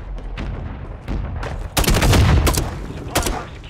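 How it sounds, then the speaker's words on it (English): A friendly mortar strike in the video game Warzone lands as a rapid series of sharp, loud blasts and booms bunched together over a few seconds, with a low rumble beneath. "Friendly mortar strike on the way."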